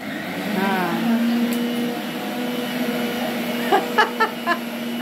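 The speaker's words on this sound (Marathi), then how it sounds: "मिक्सर लावते." A kitchen mixer grinder runs with a steady motor hum that holds for about five seconds, grinding a potato mixture. Voices are briefly heard, and a few sharp knocks rise near the end.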